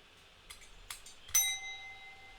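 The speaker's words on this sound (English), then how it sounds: "And I ring a bell, and in the time that comes after that, you give the Latin." A single bright bell chime rings as a cue in a Latin lesson, struck once and left to ring out, after a couple of faint taps in a quiet room.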